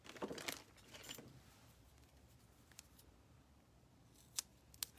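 Scissors snip through craft foam for a July 4th rosette, with several short crisp cuts near the start and a couple of sharp isolated snips toward the end, close and fairly quiet.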